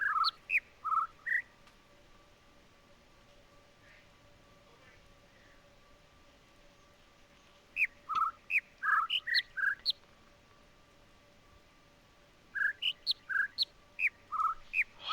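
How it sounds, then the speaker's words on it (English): Bird calls from a puzzle in the video game The Witness, bursts of short whistled chirps in quick rising and falling runs, heard in three clusters separated by quiet stretches over a faint steady hum. "Yeah, that one, the slow bird's only doing one high note."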